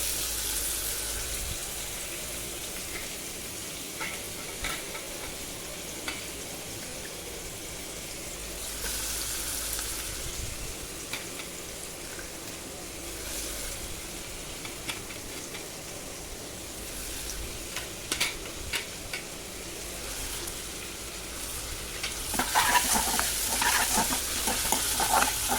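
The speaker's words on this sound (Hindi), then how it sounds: "अब मैं डालती हूँ प्याज यहाँ पे और इसका आवाज़" Chopped onion sizzling and frying in oil in a hot kadhai, with occasional stirring; a steady close crackle runs throughout and grows louder near the end.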